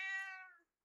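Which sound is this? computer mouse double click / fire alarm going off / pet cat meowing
pet cat meowing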